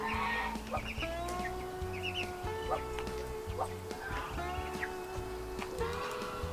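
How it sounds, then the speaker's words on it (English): A chicken clucks in short repeated calls beside a mother Muscovy duck on a small farm, with background music and outdoor noise throughout. "I've got a mama Muscovy and a chicken over there"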